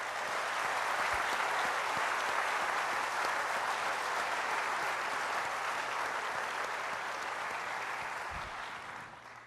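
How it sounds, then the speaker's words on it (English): An audience applauds warmly, sustained even clapping from a large room that gradually tapers off toward the end. "I wonder if we could all have a round of applause for Bill Smith."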